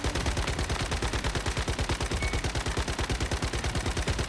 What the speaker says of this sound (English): that is some bad shooting then